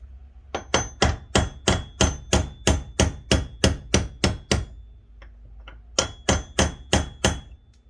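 Repeated sharp metallic hammer strikes drive a pin into a Farmall 300 Utility tractor distributor, a steady run of about fourteen loud, evenly spaced blows, then a short pause and a few more hits.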